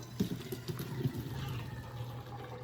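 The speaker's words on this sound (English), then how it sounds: "You can hear the water draining." Hot water pours and gurgles as boiled potatoes and carrots are drained into a pot, a steady close splashing with a couple of sharper glugs near the start and no voices.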